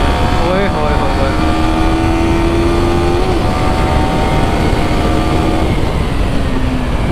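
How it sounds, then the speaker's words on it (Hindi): A Yamaha R15 motorcycle engine drones and climbs in pitch as it accelerates through the gears, loud and close with steady road and wind roar underneath. "मस्त भाग रही है यार बाइक।"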